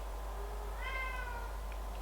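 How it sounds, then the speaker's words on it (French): A house cat gives a single drawn-out meow, moderately faint and a little distant over a low steady hum in a quiet indoor room. "Vous entendez ça? Ça, c'est mon chat."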